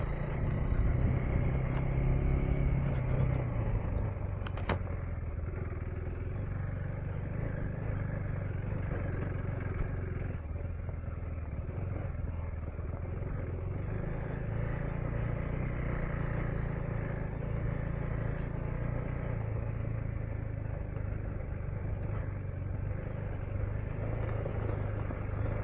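A motorcycle fitted with a quick shifter rides off-road around Cave Creek, its engine droning steadily for the whole stretch, with a brief change in pitch early on as it shifts.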